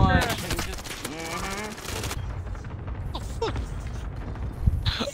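Rapid bursts of video game gunfire in Minecraft, loud and dense over the first two seconds, then scattered shots under excited talk from players.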